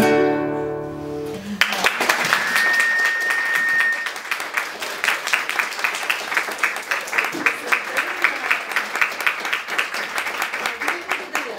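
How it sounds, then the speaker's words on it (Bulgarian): Audience applauding after a song performed at a poetry reading and language-diversity celebration at a Bulgarian university, with sustained dense clapping that settles into a steady rhythm after the music ends. "Много ви благодаря за аплодисментите."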